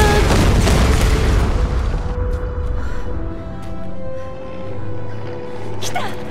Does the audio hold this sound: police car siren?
no